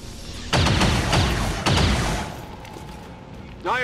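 Assault rifle fire in the strategy game XCOM 2: two loud, sharp gunshot bursts about a second apart, each followed by a booming tail, then a quieter stretch ending with a rising electronic tone.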